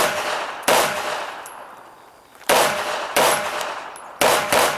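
Pistol shots fired at targets during an IDPA match at an outdoor club range, four sharp loud reports spaced irregularly over a few seconds, each with a ringing decay and a faint metallic ping between them.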